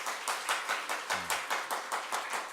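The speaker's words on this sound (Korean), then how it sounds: "여러분 박수 한번 해주시면 너무 고맙겠습니다" Church congregation at a Christmas service claps in a steady, slow rhythm, about four claps per second, soft and somewhat distant, with a brief low voice murmuring midway.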